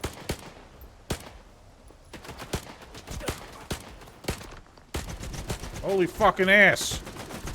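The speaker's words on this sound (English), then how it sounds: "they're so much better at shooting me than I am at shooting them" Rapid bursts of enemy gunfire in the game Stalker 2, sharp cracks scattered through the first seconds, then a denser volley while someone shouts an exclamation over it.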